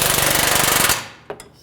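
A pneumatic impact tool snugs down control arm bushing bolts on a 2013–2015 Chevrolet Malibu, giving a loud, rapid hammering burst that stops after about a second, followed by a brief faint clunk.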